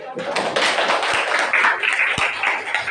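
Classroom of 7A students clapping at a school, a brief burst of many hands clapping together, close and lively, with voices mixed in.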